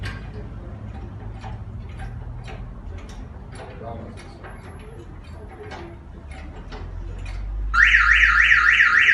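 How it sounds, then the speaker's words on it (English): Catalytic converter anti-theft alarm on a Toyota Prius Plus sounds as the car is jacked up: a loud, rapid warbling electronic siren bursts in near the end, over earlier ticking and low rumbling. "Alarm's going off because the vehicle's being lifted."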